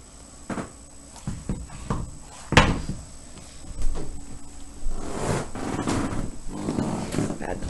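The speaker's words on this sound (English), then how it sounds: "All of that noise is me sitting down on the bed by the cat." Someone sits down on a bed beside a cat, making a jumble of soft thumps, creaks and rustling bedding with a few sharp knocks. The sounds are close and fairly loud.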